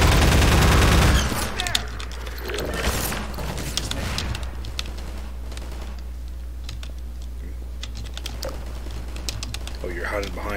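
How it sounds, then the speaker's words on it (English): Rapid bursts of gunfire in the video game Half-Life 2, sharp cracks scattered over a steady background drone through the whole stretch, dense at first and then more spread out. "I'm just gonna ignore the gunfire for a second."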